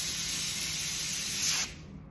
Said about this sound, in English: I've used a variety of dusters and I just noticed these that are a little less expensive tend to overspray like that